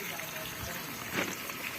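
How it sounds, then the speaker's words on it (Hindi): Water runs from an open tap in a Pakistani village home, a steady close rushing wash that fills the short stretch and is partly masked by background voices. "इधर से ना खोल, टूटी खुली हुई है, पानी आ रहा है"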